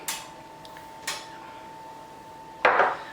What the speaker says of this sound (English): I'm going to use about 1 cup of breadcrumbs and just mix that in there